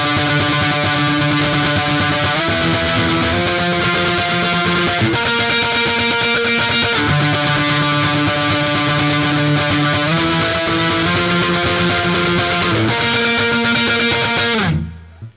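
Distorted electric guitar playing an octave power chord breakdown, loud and dense, with chords sliding up the neck in repeated steps for about fifteen seconds before cutting off abruptly.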